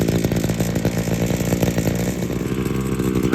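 A small two-stroke engine idles steadily and loudly up close, its buzzy, rattling putter continuous throughout with no voices.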